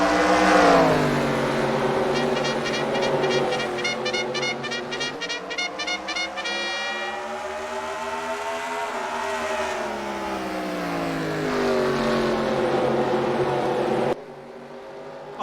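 Modified race cars roar around Oswego Speedway, loud engines rising and falling in pitch as cars rev and sweep past, with a harsh buzzing stretch midway and a brief drop near the end.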